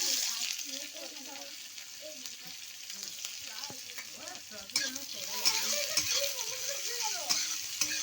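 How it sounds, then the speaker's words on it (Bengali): Chopped onion sizzles steadily in a hot pan for a mixed vegetable curry, while a spoon stirs and scrapes through it in repeated strokes, close and continuous. "একটু ভেজে নেবো পেঁয়াজ কুচিটা"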